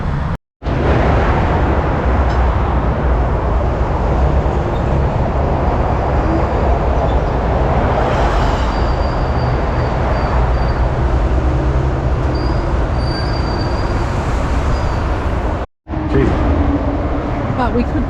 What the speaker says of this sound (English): The tram stops there, and there's a little changeover behind me here while they swap around and go back the other way.